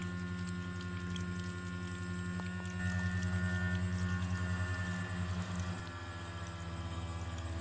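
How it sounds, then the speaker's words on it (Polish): Meltwater trickles and drips off the defrosted exchanger of a Fairland ComfortLine Inverter pool heat pump, a soft steady pour under a constant electrical hum and low machine drone. "jak woda spływa z, odmrożonego wymiennika"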